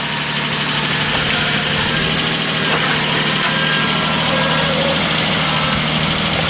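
A Nissan 300ZX that runs poorly idles steadily and loudly up close in a garage after a coilover install, with a continuous low rumble and no talk over it.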